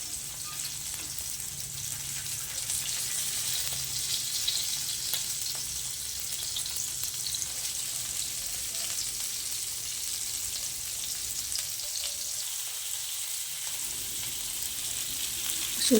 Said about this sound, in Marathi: खरपूस चुरचुरीत असे मासे व्यवस्थित भाजून घ्यायचे.